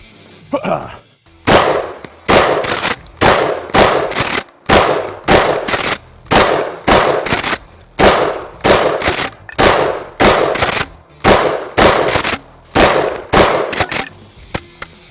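A DP-12 double-barrel pump-action shotgun fires a long string of sharp, loud blasts in quick pairs and bursts, with brief gaps between groups, close to the listener.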